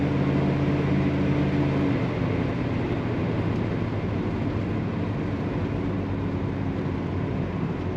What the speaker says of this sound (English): Also a very nice rumble coming out the back.